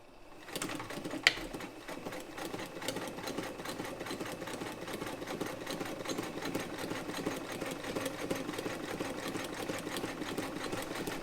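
A modified heavy-duty Frister & Rossmann 35 sewing machine with a 15-class hook stitches zigzag, a fast steady mechanical clatter that starts after a brief pause and runs evenly, close and moderately loud.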